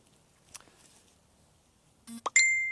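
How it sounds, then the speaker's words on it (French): A short electronic phone notification chime rings out near the end of a quiet meditation session, a couple of quick bright tones followed by a sustained ringing note, after near silence. "Il y aura peut-être de temps en temps un petit gling-gling, j'ai oublié d'enlever les notifications."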